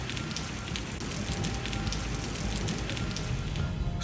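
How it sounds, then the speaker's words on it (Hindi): Heavy rain pours down steadily in Bahria Town, Karachi, a dense, continuous hiss of drops on surfaces, loud and close throughout with no talk. "तो बारिश का सिलसिला जारी है जी"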